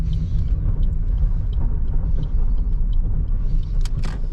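Steady low engine rumble and road noise from inside a moving car on a tarred road, continuous and fairly loud, with a few faint clicks.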